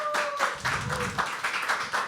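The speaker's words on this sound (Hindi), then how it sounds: "एक बार आप सब लोगों के लिए जोरदार तालियां हो जाए." An audience at a live poetry open mic claps in short bursts of hand claps that rise and fall over about two seconds, fairly close, with faint voices underneath.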